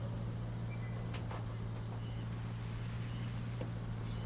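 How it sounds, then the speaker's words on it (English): A steady, low droning truck engine idles and runs in Roadcraft, a constant hum with exhaust rumble, fairly quiet and unchanging throughout. "This truck feels like it's got an engine out of an 80s Metro in it."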